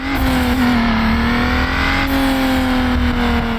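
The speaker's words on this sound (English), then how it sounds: "Add a turbo and the sound of your engine will now be accompanied by that well-known whistle every time you shift gears" Car engine in the racing video game Need for Speed Underground, fitted with a turbo, droning loudly and steadily with a rising whine and turbo whistle throughout, no talk.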